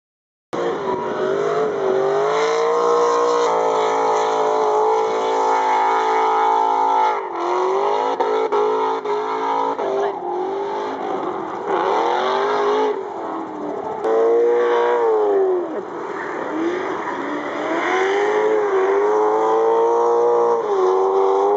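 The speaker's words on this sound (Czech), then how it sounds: "charakteristický zvuk rotačního motoru" A rotary-engined race car screams at high revs, its buzzy, wailing tone rising and dropping through gear changes, loud and continuous throughout.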